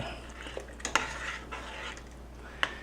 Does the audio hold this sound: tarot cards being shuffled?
no